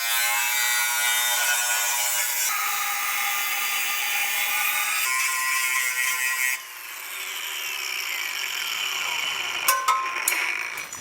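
A power tool cuts steel along a marked line on a car's transmission tunnel panel in a 2JZ-swapped Toyota Crown, a steady high buzzing grind that shifts pitch and drops in level partway, ending with brief clicks and scrapes.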